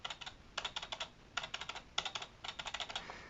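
Light taps on the spacebar of a HIWING HI300 one-handed mechanical gaming keyboard, up close and fairly quiet: four quick bursts of rapid clicking, each a string of about five to seven presses.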